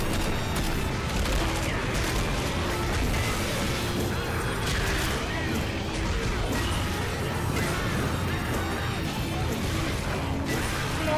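Dense, continuous rapid gunfire and crashing effects from Left 4 Dead 2 with Modern Warfare II mods fill the scene at high volume, with faint voices buried underneath.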